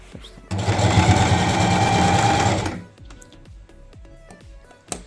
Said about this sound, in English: the next thing we want to do is to do another top stitching, just top stitch